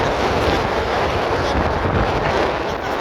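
Strong, steady wind at sea roars and buffets across the microphone in open air, a continuous rushing noise with no voices.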